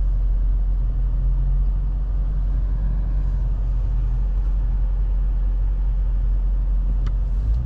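Sport Plus exhaust of a 2023 BMW M850i Gran Coupe, a steady deep rumble from the rear while driving, loud and continuous with a brief sharper blip near the end.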